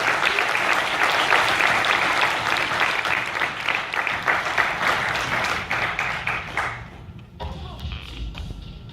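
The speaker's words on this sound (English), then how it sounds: "if we could give a round of applause to all the candidates for coming" A crowd at a town hall meeting applauds loudly and steadily for several seconds, then the clapping thins out and fades to scattered claps and room noise.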